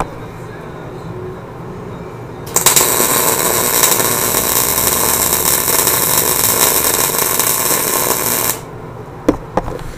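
A Miller CP 250 TS MIG welder runs short arc on single-phase 240 V, giving a steady crackling buzz for about six seconds that cuts off abruptly, followed by a couple of brief pops.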